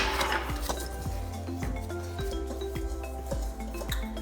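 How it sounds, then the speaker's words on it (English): A whisk rubbing and clinking against a bowl while flour, baking soda and salt are mixed for chocolate chip cookie dough, a steady rhythmic scraping with repeated light taps, close up. "Let's go ahead and whisk that up."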